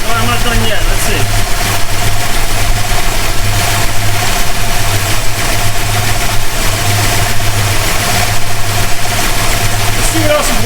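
A 1969 Plymouth Road Runner's 440 V8, running again after more than twenty years dormant, idles loud and steady for the whole stretch, its low rumble unbroken and close to the mic.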